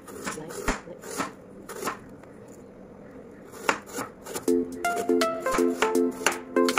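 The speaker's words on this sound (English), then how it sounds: "So it's time to cut our apple." A knife slicing through green and red apples gives crisp, repeated cuts and taps on a board, close and distinct, with the strokes speeding into a quick run of chops near the end.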